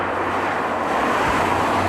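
A Mercedes B-Class car driving, with a steady engine and road rumble heard from inside the cabin, holding an even level throughout with no voices.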